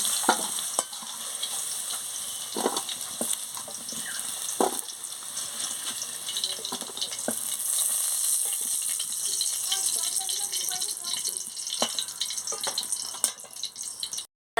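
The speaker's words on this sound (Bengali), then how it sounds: "এবারে আলুগুলো ভাজা হয়ে গেছে লাল লাল হয়ে এবারে তুলে নিচ্ছি" Potatoes crackling and sizzling in hot oil, with frequent clinks and scrapes of a spatula stirring throughout, ending in a sudden cutoff.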